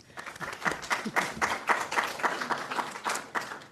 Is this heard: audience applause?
yes